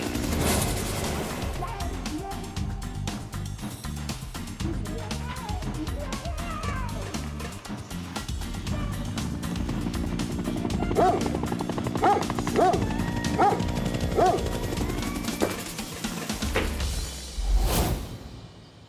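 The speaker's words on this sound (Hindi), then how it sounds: "एक कुत्ता है।" A dog barks in a dubbed cartoon scene, a few yips mixed into busy music and sound effects, with whooshes and bangs layered over the barking.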